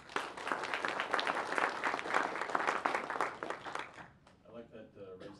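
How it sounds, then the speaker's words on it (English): Audience applause for a panel at a superconductivity summit on energy and power, a dense steady round of clapping from a room that fades out after about four seconds, followed by a few quieter voices. "Round of applause for our panel."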